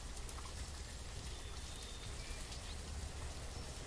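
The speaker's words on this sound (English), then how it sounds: "Wouldn't you like to be here in the rain?" Steady rain falls in the village-building video game Banished, a soft, even patter with fine droplet detail that continues unbroken and fairly quiet throughout.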